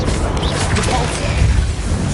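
A Repulsor spell cast in a video game bursts out as a dense, roaring crash with whooshing, smashing texture, loud and sustained for about two seconds without a clear break.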